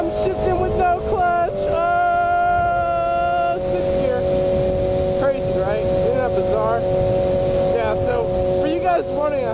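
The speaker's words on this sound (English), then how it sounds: "Look at me, I'm shifting with no clutch." A Yamaha R6 motorcycle engine holds a loud, steady hum while gears change without the clutch, with pitch steps and rising and falling revs, and a voice speaks over it.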